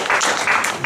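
A church congregation breaks into applause for the Lord, bursts of close clapping swelling in uneven waves for under a second.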